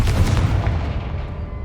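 Confringo fire spell blasting in Hogwarts Legacy, a loud booming burst with a deep rumbling body that rolls on and decays across the short stretch, no voices present.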